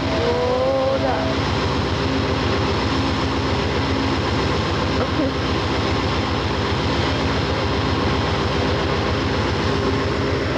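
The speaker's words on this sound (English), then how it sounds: "Here is the Amtrak engine. And there it is getting all pulled up." An Amtrak locomotive pulls up at a station with a loud, continuous rumble and a rhythmic clatter that repeats throughout, with a brief tonal squeal near the start.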